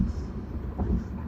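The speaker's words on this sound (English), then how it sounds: "I apologize for the background noise. I am currently driving down the road." Road noise inside a moving car, a brief steady low rumble and hiss from the cabin while driving.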